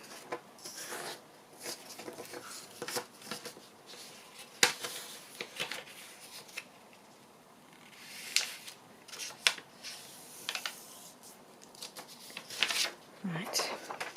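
Paper folded by hand for a mini trifold accordion ephemera holder, with a series of crisp rustles, creases and rubbing scrapes close by, while someone talks intermittently.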